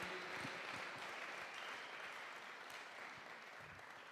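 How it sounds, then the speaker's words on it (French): A church congregation applauds at a service, with dense, steady clapping that fills the room throughout and fades slightly toward the end. "Si vous pouvez acclamer pour vous-même,"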